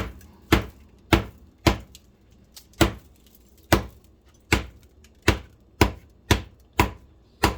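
Loud, sharp whacks of a hammer flattening beef for jerky, a dozen strikes in a steady, slightly uneven rhythm, each blow close and crisp with a quick decay.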